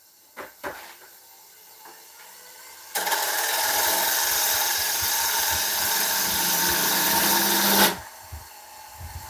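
A wood lathe cuts a tenon on dense, hard ash, with a steady, close scraping and whirring cut lasting about five seconds, preceded and followed by a few brief knocks from tool handling.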